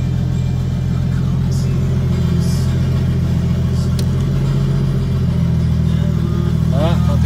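A Nissan Z car engine idles with a steady, loud low rumble as the revs settle and drop, while a person talks over it close by.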